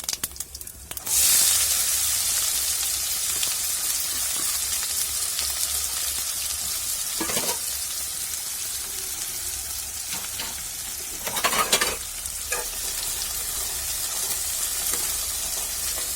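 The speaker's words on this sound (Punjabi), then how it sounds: "ਇਹਨਾਂ ਨੂੰ ਬਰਾਊਨ ਹੋਣ ਤੱਕ ਭੁੰਨਾਂਗੇ" Onions fried in oil with whole spices, curry leaves, cloves, asafoetida and cumin for matar paneer, giving a steady close sizzle throughout, with a few louder bursts of stirring and spattering near the middle.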